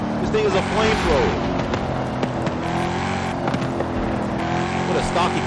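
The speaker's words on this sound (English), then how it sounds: "What a stock exhaust." Stock exhaust of a Ford truck in Forza Horizon 5, a loud steady engine drone with revving tones throughout, with someone talking over it.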